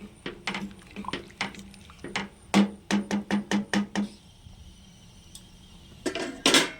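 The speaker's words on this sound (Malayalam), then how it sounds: "നമുക്കൊന്ന് ഇളക്കിയിട്ട് കൊടുക്കാം കേട്ടോ." Rice being stirred in a pot of boiling water for biryani, a run of sharp metallic scrapes and knocks against the pot, several quick clatters in a row, close and fairly loud, with a bubbling wash beneath.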